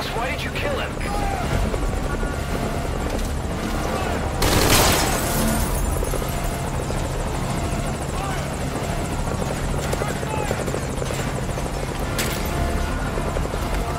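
Helicopter in Metal Gear Solid V: Ground Zeroes, a steady, loud rotor drone running throughout, with a burst of gunfire near the middle and another sharp report later, voices talking over it.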